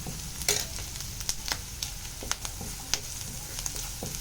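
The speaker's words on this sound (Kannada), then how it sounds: "ಇದು ಚೆನ್ನಾಗಿ ಫ್ರೈ ಆಗ್ತಾ ಇದೆ ಇವಾಗ" Chopped onion frying in a pan for paneer masala gravy, a soft sizzle broken by sharp clicks and scrapes of a spoon stirring at irregular intervals.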